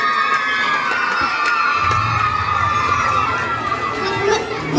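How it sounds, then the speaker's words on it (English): A room of schoolchildren claps and cheers for a grade 4 classmate at a school Independence Day celebration, a steady loud wash of hands and shouting voices with chatter mixed in throughout. "all of you please clap for him"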